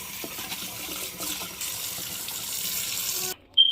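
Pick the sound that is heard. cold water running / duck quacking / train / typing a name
cold water running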